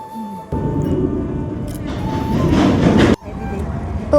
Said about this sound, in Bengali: আমাদের ট্রেন অলরেডি ঢুকছে